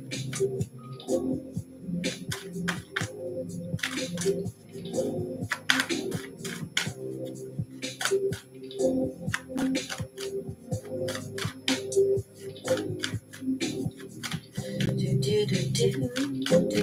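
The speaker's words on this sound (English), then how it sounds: "let's shuffle the cards" Playing cards being shuffled by hand, a run of crisp, rapid riffling and clicking bursts in uneven clusters, fairly faint and close.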